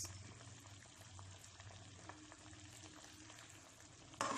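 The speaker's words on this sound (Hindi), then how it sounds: "इसे हल्का सा सॉटे कर लें लो फ्लेम पे" Fried chicken 65 pieces with chopped coriander and lemon juice sautéing in a pan over a low flame: a faint, even sizzle with a low hum underneath and a brief louder burst at the very end.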